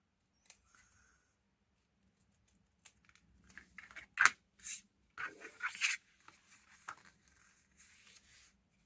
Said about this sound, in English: So I'm just going to trim off this bit